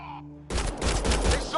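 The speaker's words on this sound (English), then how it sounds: "They shot him!" A sudden burst of gunfire erupts in Mass Effect Andromeda, a dense crackling fusillade that cuts in after a brief tonal lead-in and runs loud and close to the end.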